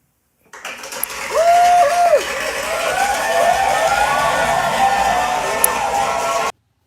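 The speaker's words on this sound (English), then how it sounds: "he set up a recorded applause" Recorded crowd applause and cheering played back in a studio, a steady wash of clapping and cheers with a whooping voice near the start, fairly loud and continuous throughout.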